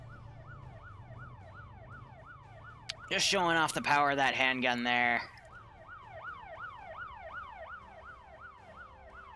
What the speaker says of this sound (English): they left the sirens on of these Vic